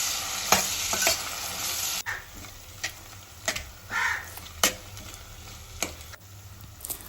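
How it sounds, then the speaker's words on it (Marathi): Sliced onions sautéed with whole spices for prawn biryani, sizzling steadily while a spatula knocks and scrapes the pan in irregular strokes, close up, with a crow cawing faintly now and then in the background. "थोडा अख्खा मसाला आहे ते टाकून घेऊया आणि सर्व मिक्स करून घेऊ थोडं कांदा लालसर होईपर्यंत सर्व मिश्रण परतून घ्यायचं आहे"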